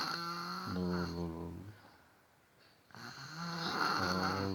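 A sleeping small child snores, making two long, buzzing snores of steady, fairly loud tone separated by a short, quiet breath.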